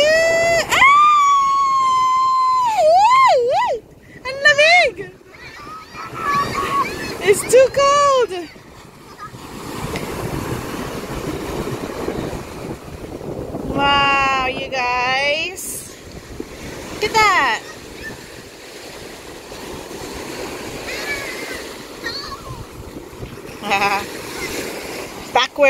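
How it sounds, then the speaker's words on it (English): Ocean waves wash and surge at a beach in Hawaii, a broad rushing roar with wind buffeting the microphone, heard beneath excited shouting and high-pitched children's voices throughout. "You like the waves?"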